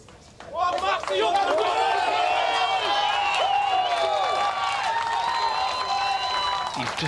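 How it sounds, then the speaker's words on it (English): A large golf gallery at the final round of the Open at Royal Liverpool roars, cheering, whistling and applauding loudly and continuously, with excited shouts rising over the sustained ovation. "You've just got to listen to the crowd and the support Matthew Jordan's got this week"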